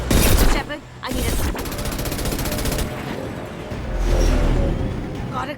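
Loud bursts of rapid gunfire ring out in a Mass Effect 2 firefight, with rattling automatic fire and heavy impacts; character voices speak over the shooting.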